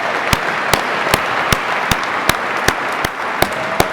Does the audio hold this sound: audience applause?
yes